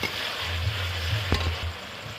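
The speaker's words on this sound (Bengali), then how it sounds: "তো মশলাটা ভালো করে আমি কষে নেব।" Masala paste for chicken biryani fried and stirred in oil, a close, steady sizzle with a low hum beneath, broken by a sharp scrape or tap of the spoon midway, no voices.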